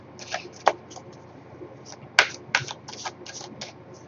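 Soft riffling clicks of a deck of cards being shuffled and handled, a quick series of light snaps and flutters close by, with a sharper flick midway and no voices.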